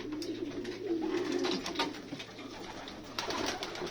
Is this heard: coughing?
no